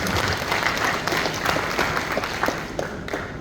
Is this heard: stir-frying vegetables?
no